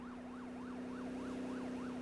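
A wailing police siren on a motorcycle cop's bike sweeps steadily up and down in a regular rising-falling cycle, holding fairly even and moderately loud as it draws near on a valley road, with no one talking over it.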